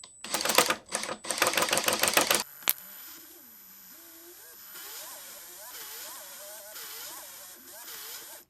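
DIY grease gun powered by a cordless drill, attached by a flexible hose to a grease zerk; the drill gives a few rapid, loud mechanical bursts, then settles into a quieter, wavering whine.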